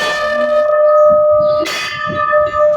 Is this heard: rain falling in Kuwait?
no